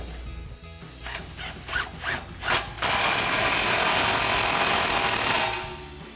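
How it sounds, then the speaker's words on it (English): A ratchet with a 15mm socket tightens an exhaust clamp on a Sierra 1500 fitted with a Borla Touring dual exhaust, giving a few short rasping strokes and then a long steady grinding rush, close and with no talk. "just slide your clamp up into place and tighten it down with your 15mm socket"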